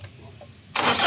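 A Mitsubishi Adventure engine with a reported misfire starts on the first crank: a quiet lead-in, then a sudden loud, broadband roar catches and holds near the microphone.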